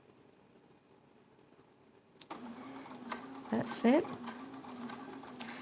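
A sewing machine stitches a fabric seam while joining units. After a quiet start it runs with a steady mechanical hum and rapid needle ticking, close by, as a person speaks briefly over it.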